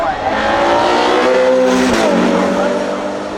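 A hypercar accelerates hard on a track, its loud, close engine note climbing in pitch and then dropping away as it passes, with a rushing roar throughout.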